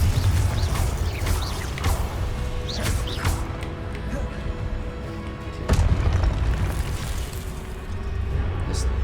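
Confringo fire spells detonating during combat in the video game Hogwarts Legacy, a dense run of booming blasts and crackling bursts over a constant game soundscape, loud and near.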